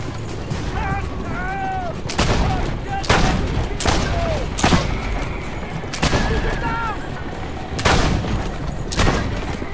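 A 1500s-era machine gun fires in Assassin's Creed Brotherhood: loud booming bursts repeat roughly every second or two, with a voice talking between the shots.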